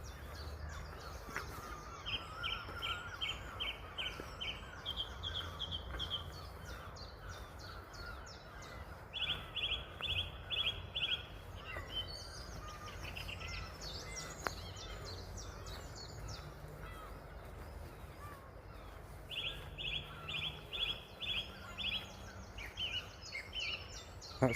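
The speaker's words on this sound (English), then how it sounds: "It's definitely not a blackbird. I think it's a song thrush." A song thrush sings in loud, repeated phrases of sharp whistled notes, each bout separated by short pauses, over a soft outdoor background in a country park.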